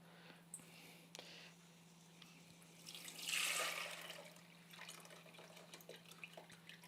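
Rinse water poured off green lentils into a sink, a brief rushing splash swelling for about a second mid-clip amid soft drips and trickles, close and fairly quiet.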